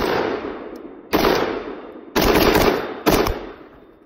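A rifle fires live ammunition in four loud, close shots about a second apart, each sharp crack followed by a long decaying echo, with no voices.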